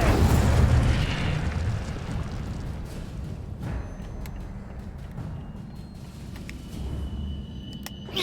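Incendio fire spell blast in Hogwarts Legacy, a loud rushing burst that peaks in the first second, then a rumble that fades to a lower hiss with scattered small crackles and clicks.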